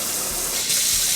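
Water spraying hard from a newly installed RV kitchen faucet sprayer, a loud, steady, close hiss that swells slightly midway, with no voices.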